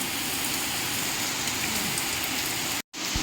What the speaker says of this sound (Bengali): কিভাবে বৃষ্টি পড়ছে, একভাবে বৃষ্টি হয়ে যাচ্ছে সকাল থেকে